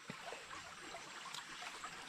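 A shallow creek flows and trickles steadily beside an outdoor cooking spot, with a soft continuous babble and no speech over it.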